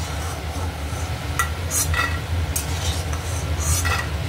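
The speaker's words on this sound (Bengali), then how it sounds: "আলুটা একটু ভালো করেই ভাজবো।" Potatoes fry in a pan on the stove, a steady close sizzle with repeated scraping stirs and light metallic clinks of the spatula against the pan.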